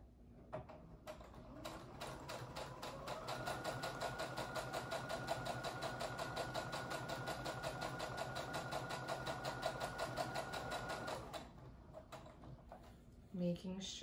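Sewing machine stitching a fabric face mask, with a couple of back stitches: a close, rapid mechanical whir and needle patter builds and runs for several seconds before stopping, followed by a clunk.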